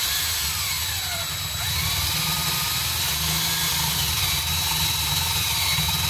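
A power drill runs continuously with a steady motor whine and low hum, a brief pitch dip partway through, close and unbroken with no talking.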